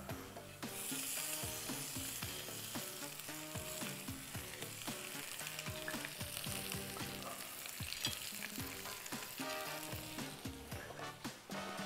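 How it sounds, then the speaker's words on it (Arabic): Shrimp and garlic frying in a pan, loud crackling sizzle throughout with repeated scraping and stirring clatter of a utensil against the pan, close and busy, no voices. "اشوح الثوم مع الجمبري كويس قوي"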